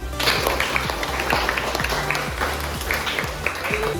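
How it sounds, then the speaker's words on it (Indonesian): A classroom audience applauds after student group presentations, a dense steady patter of many hands clapping throughout, fairly close and even in loudness, with no talking over it. "Kita aplaus untuk semua presentasi dari kelompok 1 sampai kelompok 5."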